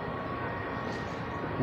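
An airplane drones overhead at the National Museum of the US Air Force at Wright-Patterson Air Force Base in Ohio, a steady, broad engine rumble holding level throughout.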